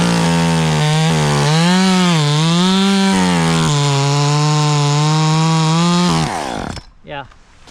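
A chainsaw cuts through a large dead tree during removal, its loud close whine rising and falling with the load for about six seconds before cutting off abruptly, followed by a faint thud.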